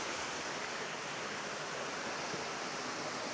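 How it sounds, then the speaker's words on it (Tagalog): Waterfall on the Balung Santo river in Bailen, Cavite, heard close up as a loud, unbroken rush of falling water with no other sounds over it. "Dalawa yung falls dito."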